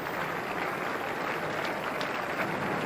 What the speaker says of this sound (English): So applause around the ground